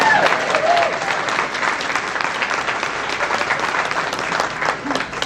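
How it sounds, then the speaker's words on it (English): Audience at an anniversary honorees ceremony clapping steadily, a dense, even round of applause that holds from start to finish with no talk over it. "I'd like to hear a clap for that one."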